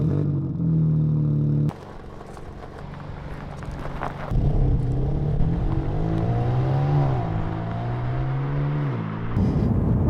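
A BMW M4 CSL drives off, its engine note rising and falling through several revving gear pulls with a sharp cut between them, loud and close with no talk.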